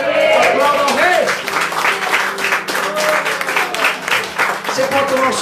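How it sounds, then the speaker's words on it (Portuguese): A church congregation claps for the King during worship, steady applause filling the room while a voice speaks and calls out over it throughout. "Aplauda ao Rei."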